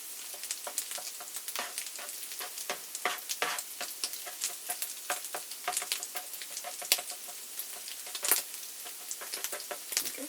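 Corned beef hash, eggs and hash browns frying on a griddle, a continuous crackling sizzle dotted with sharp pops and spits, close and fairly soft, with no voices.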